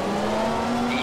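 Mazda 323 four-wheel-drive rally car in Richard Burns Rally, engine holding a steady sustained drone with a faint tire squeal rising near the end, close and continuous.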